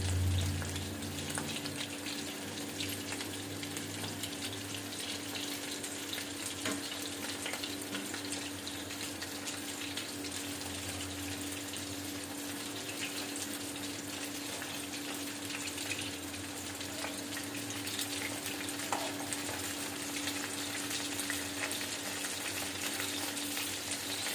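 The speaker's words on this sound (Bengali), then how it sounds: "এবার আমি হিটটা বাড়িয়ে দেবো, বাড়িয়ে দিয়ে এটাকে ভালো করে ভেজে নেবো" Chilli chicken frying in a pan turned up to high heat, a steady continuous sizzle with occasional stirring, no voices over it.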